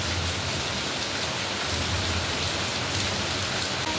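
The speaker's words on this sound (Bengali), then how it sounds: "মুষলধারায় বৃষ্টি হচ্ছে।" Heavy monsoon downpour pouring steadily over a waterlogged street, a dense, continuous roaring hiss of rain that stays loud and even throughout with no voices.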